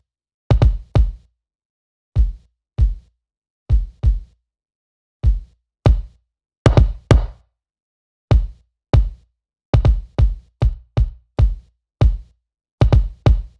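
Solo kick drum with its attack turned fully down by the Logic Pro X Enveloper plugin, giving soft, rounded thumps in an uneven pattern of single and doubled hits, clear and alone with no other instruments.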